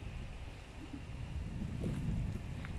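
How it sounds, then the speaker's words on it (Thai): Strong wind gusts through flowering trees outdoors around a house, a steady low rumbling roar with buffeting on the microphone that swells slightly toward the end. "ลมแรงเยอะมาก"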